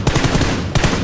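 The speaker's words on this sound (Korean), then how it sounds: "내 총소리 너무 커가지고" Video game gunfire rattles in loud, rapid automatic bursts, a dense string of close shots with a short gap before a final burst.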